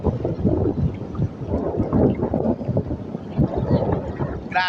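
Strong monsoon wind in the wake of Typhoon Inday, roaring steadily and loudly against the microphone in broad gusty rushes beside fast-flowing floodwater, with no voices.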